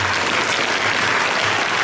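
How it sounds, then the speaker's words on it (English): An audience at a school event applauds loudly and steadily, a dense, continuous wash of clapping with no talking over it. "So give them also a good round of applause."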